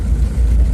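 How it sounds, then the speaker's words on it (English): Diesel engine of an Ambassador car running loudly, a heavy low droning rumble that stays steady and close throughout the short stretch, with no voices. "engine sound is very loud, so vibration is more as compared to the petrol car."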